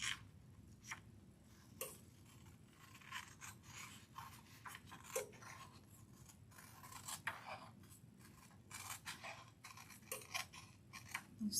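Scissors trim the edges of a sublimation paper print for a tumbler: a series of short, crisp snips and rustles at close range, spread across the clip, with a low background hum beneath.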